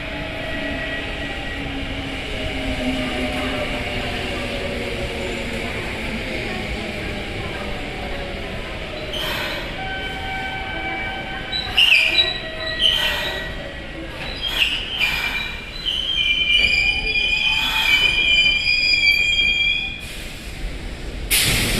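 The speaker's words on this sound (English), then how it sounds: "A local train bound for Kyoto Kokusai Kaikan is arriving at" A local train bound for Kyoto Kokusai Kaikan pulls into a station, its steady rumble building until high, shrill wheel squeals and screeches ring out over the last half, loud and close.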